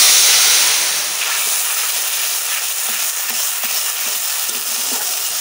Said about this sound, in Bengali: এবার হলুদ আর লঙ্কা গুঁড়োর যে মিশ্রণটা বানিয়ে রেখেছি জল দিয়ে ওটা দিয়ে দিচ্ছি